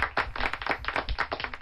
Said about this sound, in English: applause all the way